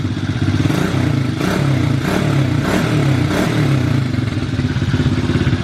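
A 110/125 cc quad bike engine idles steadily and loud up close, with a continuous rattling drone and faint rhythmic clatter.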